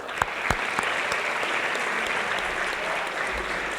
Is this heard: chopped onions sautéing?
no